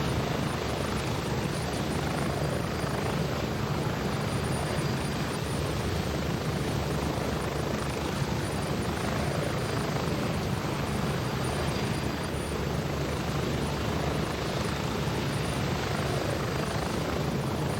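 In the Gray Zone Warfare video game, a helicopter in flight drones with a constant heavy rotor and turbine rumble, loud and unbroken as though from inside the cabin, no talking over it.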